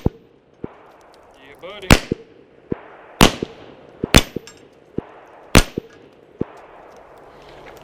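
.45 pistol shots striking steel plates: several sharp, loud cracks at uneven intervals, each followed by a bright metallic clang and ring. Fainter pops from other shots come in between, and a man makes a short exclamation.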